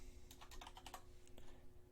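Quiet burst of typing on a computer keyboard as a username is entered, a quick run of light key clicks followed by a single later tap, close and alone.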